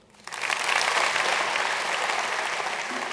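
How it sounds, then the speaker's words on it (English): Applause swells in quickly from near silence and holds as a dense, steady wash of many hands clapping, loud and close. "Please give a big round of applause for Ricardo Semler."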